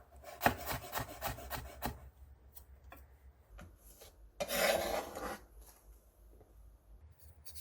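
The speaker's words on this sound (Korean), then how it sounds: "쪽파 한 단은 반으로 자르고 당근 한 개는 길게 채 썰어주세요" A kitchen knife taps quickly on a cutting board while halving a bunch of scallions and julienning a carrot: a burst of sharp close chops, scattered quieter taps, then a brief rasping slice, fairly faint.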